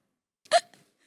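A person imitates a hiccup with their voice on a comedy show stage, a single sharp, close gulping hic that sounds alone after a short silence.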